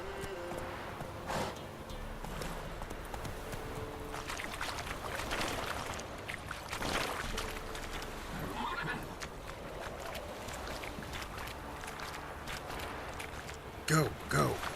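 The horse Roach in The Witcher 3 neighs and whinnies in short bursts alongside clip-clopping hooves, while someone talks quietly over the sounds.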